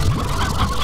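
Stony hens from Slime Rancher clucking in a brief, close burst of low fowl-like gobbling and clucking sounds, less than a second long, with no voices.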